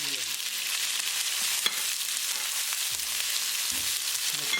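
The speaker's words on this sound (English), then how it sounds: "As the oil starts to heat up, add cumin seed, jeera. Add onion." Onion and cumin seeds fry in olive oil in a kadai, a loud, steady hissing sizzle that runs throughout, with a few faint knocks underneath.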